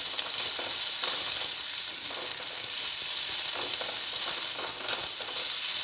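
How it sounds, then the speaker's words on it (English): Continuous sizzling and crackling of spices, including cinnamon, fennel seeds and cumin, frying in hot oil over low to medium heat, steady and close, with no talking. "fennel seeds, jeera, and I will fry this in low to medium"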